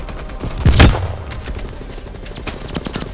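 One loud, booming sniper rifle shot in Call of Duty Cold War, followed by a decaying echo and faint scattered distant gunfire beneath a steady background hum.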